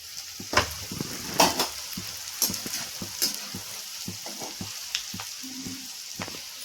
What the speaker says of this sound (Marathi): तेल छान तापलेलं आहे, त्यामुळे बॉल्स चांगले आपले तळत आहेत.